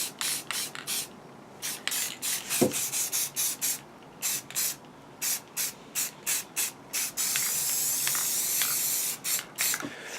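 Blue base coat being spray painted onto a life-size Boba Fett Mandalorian jetpack prop: repeated short hissing bursts from a spray can, close and loud, with a longer continuous spray near the end.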